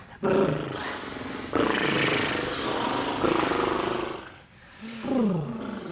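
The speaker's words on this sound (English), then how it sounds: "And then just blowing some air through the lips." Someone blows air through loosely closed lips in a lip trill, giving rough fluttering bursts with breaks between them and a brief voiced pitch glide near the end, close and fairly quiet.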